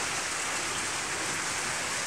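Steady rain pours down outdoors during a third straight day of downpour, a dense, even hiss of drops with no break, close and loud throughout.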